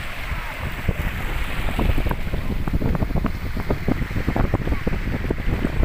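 Seaside beach ambience at Sitio Calejon, Barangay Libjo: constant wind buffets the microphone over a rushing wash of surf, with scattered soft knocks and thuds throughout.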